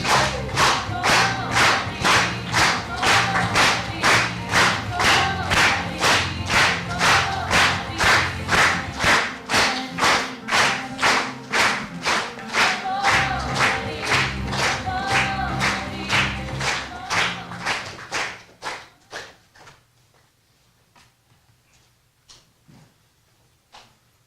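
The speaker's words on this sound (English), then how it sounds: "And give yourself applause." A group of people claps in a fast, steady rhythm, loud and close for about eighteen seconds, then the clapping fades and scatters into a few final claps before near silence.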